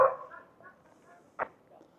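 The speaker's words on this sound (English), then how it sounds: "There's a little dog over there." A small dog outdoors gives a couple of short, moderately distant barks, one at the start and another after a pause, with quiet background otherwise.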